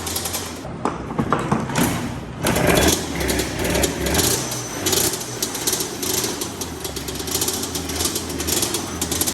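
A custom Yamaha Banshee BigWheel dirt bike engine runs after a kickstart, a loud, rapid, rattling buzz that holds steady and close throughout, with no voices.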